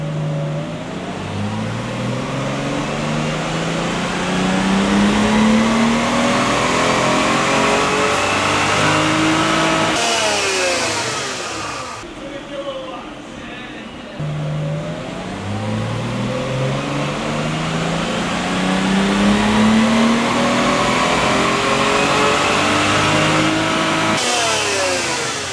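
A Lexus IS200 with a modified throttle body revs on a dyno in two long runs, the engine note climbing steadily in pitch to a loud peak before dropping off, with a brief lull between pulls.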